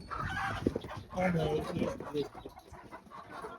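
Roosters in a pen cluck and call softly at mid distance, short scattered bursts mixed with people talking nearby.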